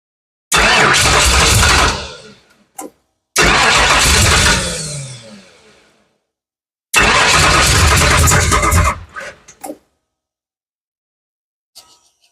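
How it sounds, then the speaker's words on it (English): Big block Ford Fox-body cranking on the starter in three long bursts with short pauses between, trying to fire but not catching; loud and close, followed by brief clicks. "It's like it wants to start when I mash the button."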